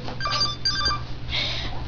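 A novelty shoe-shaped telephone rings with two quick electronic trills, close and clear, followed by a softer third burst, with no one talking.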